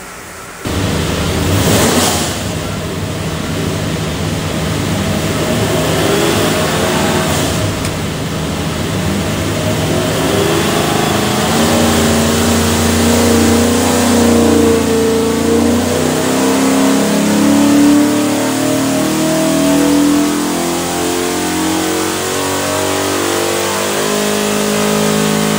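A 347 Ford stroker V8 with a SCAT crank and custom DSS pistons roars into a loud, sustained run on an engine dyno, starting abruptly and holding a heavy, rising drone that climbs through the revs for over twenty seconds.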